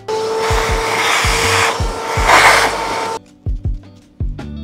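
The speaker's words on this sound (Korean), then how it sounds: "매장에 만약 청소기가 있다고 하시면은 이 원두들을 빨아들이시면은 굉장히 간편하게 청소하실 수가 있어요" A vacuum cleaner sucks old coffee beans out of a coffee grinder, giving a loud, near whine with rattling bean pickups for about three seconds. It then cuts off, leaving a few sharp knocks and clatters.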